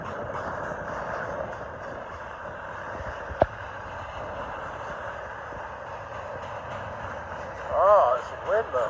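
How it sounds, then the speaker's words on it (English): Strong, gusty wind roars steadily through a downtown setting as a Union Pacific intermodal train passes, making a continuous broadband rush with a sharp knock near the middle and a louder gust toward the end. "Oh, it's wind though."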